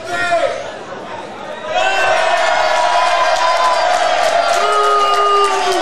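A packed wrestling crowd at the American Community Center cheers and whoops loudly, with chatter at first and then a sustained roar of shouting fans that builds and holds.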